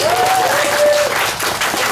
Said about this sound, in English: I'm taking in the applause of the audience.